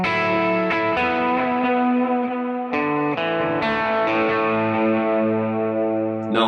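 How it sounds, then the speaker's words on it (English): Electric guitar through a Kemper Profiler with a chorus effect, chords and single notes ringing out with a shimmering, wide tone and long sustain, each new strum sharply attacked and then slowly decaying. "So we'll go back to the chorus."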